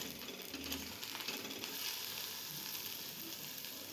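An egg, lightly salted, fries in a pan after being flipped, giving a continuous close sizzle with faint scraping and bubbling textures over the steady hiss.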